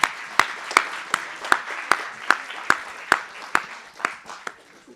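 Audience at an annual conference clapping in a steady, slow rhythm, roughly a dozen sharp, evenly spaced claps over a soft wash of lighter applause that fades toward the end.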